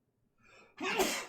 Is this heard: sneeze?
yes